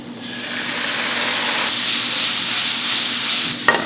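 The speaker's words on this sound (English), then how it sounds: "Now that I have my vegetables browned, I'll put in 2 tablespoons of burgundy wine." Burgundy wine hits browned vegetables in a hot pan for vegan gravy, bursting into a loud, steady sizzle and hiss that holds close and alone for several seconds before a brief clink near the end.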